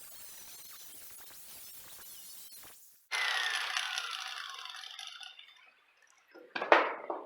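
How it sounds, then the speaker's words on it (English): Cutoff wheel slicing sheet metal off a car fender on a custom car build, a sudden loud, bright grinding screech for a couple of seconds that fades, then a short sharp second cut. "I'm just going to cut the top off, the sheet metal off"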